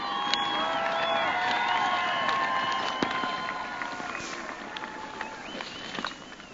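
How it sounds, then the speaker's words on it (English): A large crowd at a 2015 high school graduation ceremony sustains loud cheering and applause with scattered whistles, steady at first and easing slightly toward the end. "give them a round of applause for their love, support, and encouragement over the last 4 years."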